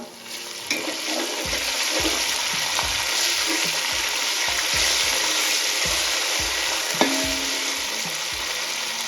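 Onion, green chilies and curry leaves frying in a pan for Maharashtrian masale bhat, a steady hiss of hot oil with repeated close scrapes and knocks of a stirring spoon.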